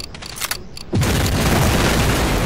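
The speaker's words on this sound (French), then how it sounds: "c'est une bombe, les deux explosent" A bomb goes off in the video game Medal of Honor. After a short stretch of quieter game sound, a loud, close boom hits and rolls on as a sustained roar to the end.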